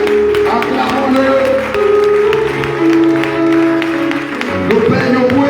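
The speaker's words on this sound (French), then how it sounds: "Je veux qu'on acclame le Père." A church congregation applauds and cheers for a priest, loud sustained clapping and crowd voices filling a large space, with a sung or spoken voice carrying over the top throughout.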